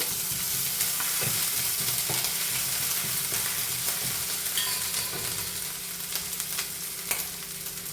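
Whole spices (cinnamon, cardamom, cloves) and ground ginger paste frying in oil for a soya chunk masala curry, a steady close sizzle with scattered stirring scrapes and clicks throughout, no talking.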